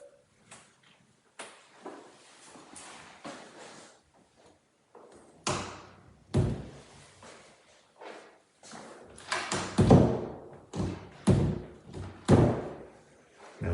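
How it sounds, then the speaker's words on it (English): A door in an old heritage house under renovation in San Antonio fails to close properly as it is pushed shut again and again, giving a run of close, uneven thumps, knocks and rattles. "Now I found a door that doesn't quite close the way it should."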